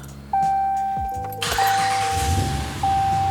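A Ram 1500 pickup, a 4th-generation truck, is switched on with its ignition chime sounding as a steady electronic tone that stops and restarts, followed by a low engine rumble starting up underneath.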